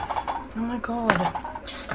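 Dishes and cutlery clink and rattle as they are carried and put away while cleaning at home, close and fairly loud in short bursts, with a voice speaking briefly over them.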